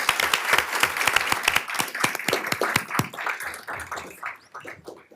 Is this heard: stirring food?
no